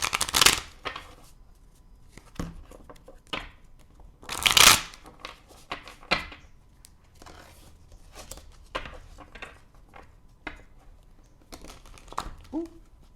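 Round tarot cards being shuffled by hand at close range, giving bursts of riffling and crinkling at irregular intervals with long quiet stretches between them, one especially loud burst in the middle and no talking.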